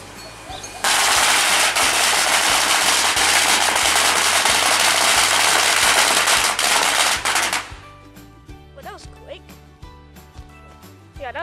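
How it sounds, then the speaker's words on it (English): A box of firecrackers set off in a chimney-like burner in Phuket, Thailand, bursts into a loud, rapid, continuous crackling barrage for about seven seconds, then stops abruptly, leaving scattered pops and people talking nearby. "it looks like they're gonna light off another box of firecrackers"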